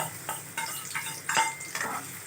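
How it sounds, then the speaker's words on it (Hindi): Thinly sliced onions fry in hot oil for Hyderabadi red chicken, with a close, continuous sizzle broken by several stirring and scraping strokes of a utensil against the pan, with no voices. "अभी हमारा तेल गरम हो गया है, हम इसमें प्याज डालेंगे"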